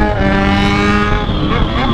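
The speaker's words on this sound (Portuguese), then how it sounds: "Eu adoro essa moto." A motorcycle ridden through Londrina, Brazil, with a loud, steady engine drone and stacked harmonic tones holding close and constant for the whole stretch, no pauses in the roar.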